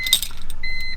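Key turning in the ignition of a BMW E46 to position 2: a short metallic jingle of keys followed by faint electronic chimes as the car's accessories switch on.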